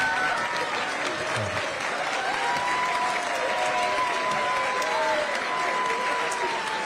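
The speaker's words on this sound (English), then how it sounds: "Get your applause." Continuous audience applause for students at a high school evening of excellence, even dense clapping throughout, with faint whistles and crowd voices woven underneath.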